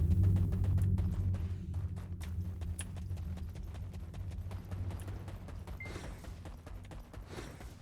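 Horse hooves clip-clop steadily at a moderate pace while riding in Black Desert Online, a rhythmic mid-level patter running throughout with faint game ambience and no talking.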